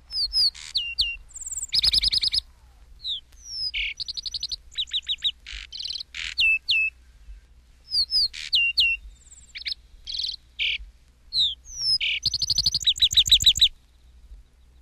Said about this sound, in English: Page 233, Lark Sparrow